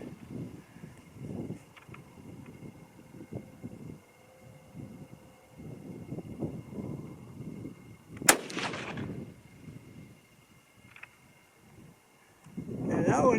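A single loud rifle shot from an 8mm Mauser 8x57mm firing a handloaded round cracks sharply near the middle, ringing out over steady outdoor wind noise and talk before and after.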